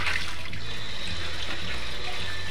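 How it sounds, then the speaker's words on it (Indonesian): Clean tap water running steadily as a drinking water bottle is rinsed by hand, a continuous close splashing and trickling wash with no voices. "kita bilas dengan air bersih"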